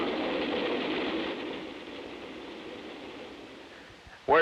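A train approaching a railroad crossing, heard as a steady, distant rumble and wash of rail noise that slowly fades, with a brief louder burst at the very end.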